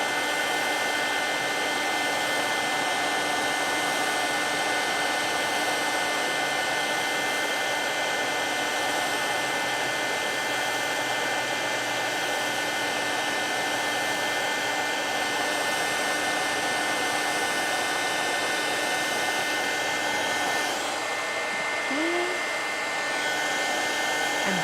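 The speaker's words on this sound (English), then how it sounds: "the heat tool is nice and hot. It's melting it right away" A heat tool blows hot air over embossing powder to melt it, producing a steady, loud, close whooshing hum like a hair dryer that runs unbroken for nearly twenty-five seconds, with no talk over it.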